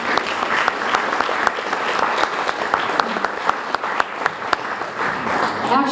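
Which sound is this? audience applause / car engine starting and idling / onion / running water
audience applause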